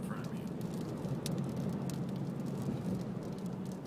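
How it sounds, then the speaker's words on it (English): Dust and small rocks blown by wind strike a car windshield while driving in Arizona, a dense continuous patter of fine ticks and clicks over steady low road rumble inside the car. "you can hear all the dust and rocks and stuff bouncing off the windshield"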